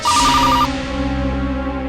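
An incoming telephone call rings with a bright electronic ringtone, a quick repeating trill over a steady tone that cuts off after well under a second, with no one speaking.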